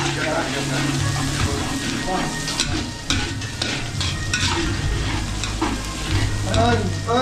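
Chopped garlic sizzles loudly in a hot pan, the steady frying hiss broken by scraping stirs of a utensil, close up with no one speaking.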